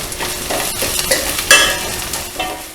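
Onions and chillies fry in hot oil in a pan, a loud, steady sizzle broken by repeated stirring scrapes and clatters close by.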